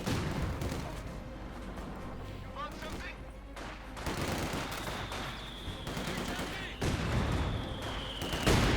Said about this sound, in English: Mortar rounds going off.